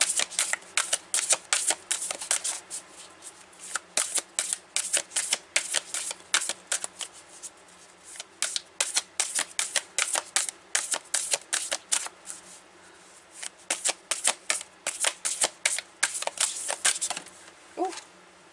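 Magical spell tarot cards being shuffled close up in repeated bursts of fast crisp riffling and flicking, separated by short pauses, with no speech.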